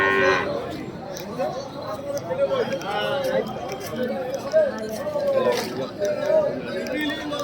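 Haryana breed cattle at a busy livestock market, with a few moos standing out over steady crowd chatter and talk nearby.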